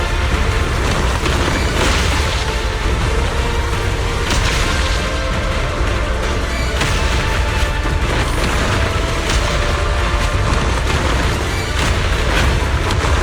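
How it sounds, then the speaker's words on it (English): Dense, continuous rumbling booms and crashes of video game explosions, a constant barrage, loud and unbroken from start to finish. "Move in during the gaps between explosions."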